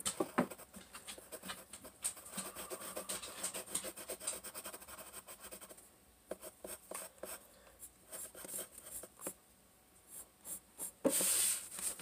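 A pencil scratches and scribbles on paper during a drawing competition, quiet and close, in uneven strokes with a few pauses.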